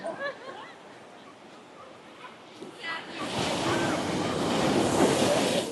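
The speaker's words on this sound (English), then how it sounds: "get out of the way of the ocean, because the tide is kind of coming in" Ocean waves wash in as the tide rises at Oceanside, starting as quieter surf under some wind buffeting and then surging into a loud, sustained wash that fills the rest.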